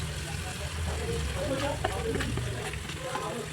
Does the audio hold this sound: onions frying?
yes